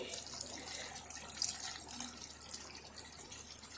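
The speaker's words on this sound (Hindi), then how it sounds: "अब हम इसमें थोड़ा सा पानी ऐड करेंगे" A little water poured into a pot of chicken curry, a thin continuous trickle and splash with faint dripping, heard close and alone for a few seconds.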